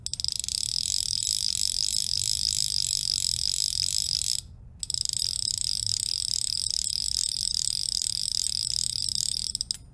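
An Orvis SSR Disc fly reel clicks in a fast, steady buzzing ratchet as line is pulled from it, loud and close, running continuously with one brief pause midway.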